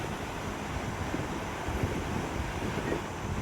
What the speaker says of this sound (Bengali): যা দারুণ হাওয়া দিচ্ছিল, মজা লাগছিল মর্নিংটা